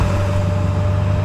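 A truck making a complaining noise: a steady low mechanical hum under a thin, constant whine, close and unbroken, with no voices.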